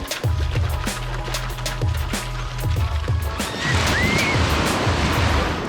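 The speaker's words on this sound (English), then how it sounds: "It's always good to wake up to the sound of waves." Sea waves surging onto the sand at the southern tip of Palolem beach in Goa, a steady close wash of surf with rolling rumbles that builds louder toward the end, no voices.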